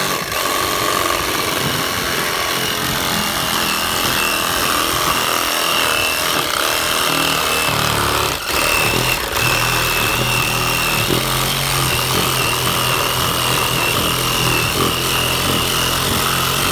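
A Ryobi power tool runs continuously and loudly with a harsh, rough, heavily vibrating drone and rattling, up close and with no talk, while up-cycled car accessories and a spoiler are being made.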